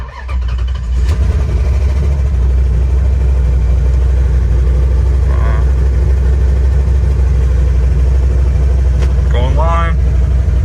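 A car with a Mega Squirt controlled engine and unplugged transmission idles with a steady, loud, low rumble while reverse gear is tried, with brief faint squeaks near the end.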